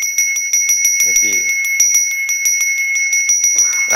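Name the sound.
priest's hand bell (genta) ringing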